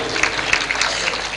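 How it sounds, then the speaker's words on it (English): An audience at a panel discussion on Indian cinema applauds the panelists with a steady patter of many hands clapping at moderate loudness, no voices on top. "please give our panelists a very warm applause"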